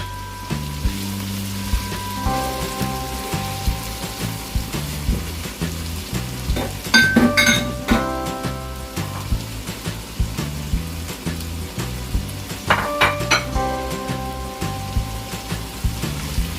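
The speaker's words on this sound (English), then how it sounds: "Now I'm gonna start by adding the spring onion" Spring onion and leeks sizzle in a hot frying pan, a loud, steady crackling fry heard up close, with occasional stirring clinks against the pan.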